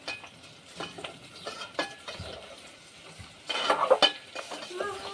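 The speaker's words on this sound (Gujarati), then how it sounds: "તેલમાં આપણે બટેટાને અસલા તળાવા દેવાના છે ધીમા ગેસ ઉપર રાખીએ" Potatoes frying in oil over a low gas flame, with soft intermittent sizzling broken by clinks and scrapes of a utensil against the pan, growing briefly louder near the end.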